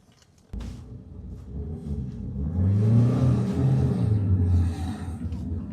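A car engine rumbles and revs up after a sharp start, with a low grinding drone from a tire building and then easing off.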